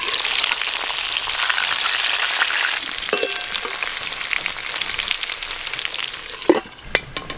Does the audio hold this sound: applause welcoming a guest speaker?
no